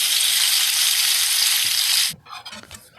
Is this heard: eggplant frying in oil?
yes